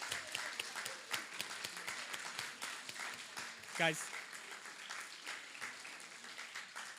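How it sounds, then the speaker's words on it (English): Audience at a Jack Kerouac poetry contest claps for the winners, a moderate, steady patter of hands under a speaking voice. "Big round of applause for our winners."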